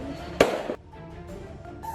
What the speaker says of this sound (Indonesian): suara lemparan batu dan petasan yang mengenai gerbong